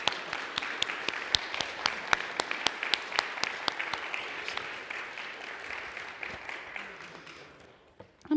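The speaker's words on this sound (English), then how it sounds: "Please give her a round of applause." Audience at a Sunday church service applauds to welcome a guest speaker, steady clapping from many hands throughout, loud and close, tapering off near the end.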